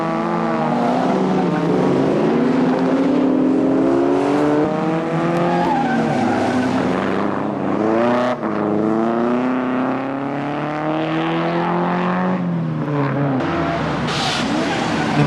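Triumph TR race cars from 1995 passing on a circuit, with loud close engine notes rising and falling as cars go by in succession, revving through gears, and a commentator talking over them.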